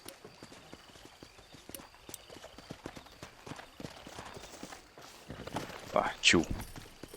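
A horse in the Red Dead Redemption video game trots up with soft, rhythmic clip-clop hoofbeats, then gives a louder whinny near the end, with someone speaking briefly over it.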